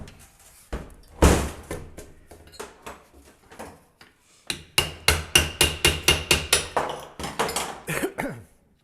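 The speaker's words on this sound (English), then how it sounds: "a small ball peen hammer and sit here and tap the center of that in" A small ball peen hammer taps a part into a 350 transmission from a 1980 Jeep 4wd, striking in steady runs of sharp metallic knocks, close and crisp, with brief pauses between bursts.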